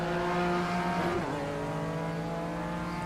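A BMW race car in iRacing's BMW M Power Tour drives under throttle through a right-hand bend, its steady engine drone loud and continuous, with a brief dip and pitch shift midway before it settles again.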